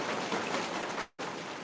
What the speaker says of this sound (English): they're like a rain sound effect for you